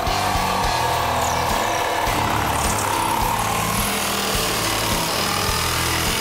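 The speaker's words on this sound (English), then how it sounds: "get another Sawzall, safety glasses on. I'm gonna cut the trim off right here" A Sawzall reciprocating saw cuts through trim up close, a loud, continuous rasping buzz with a pulsing stroke rhythm that runs steadily throughout.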